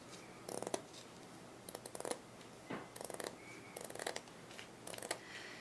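Scissors snip through plastic canvas, cutting it down to a 1 1/4 inch width, in short crisp bursts of several quick cuts spaced about a second apart, close and quiet with no talk.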